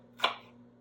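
A knife cuts once through a red onion into a thin slice, giving a single crisp, close chop that fades quickly against quiet kitchen background.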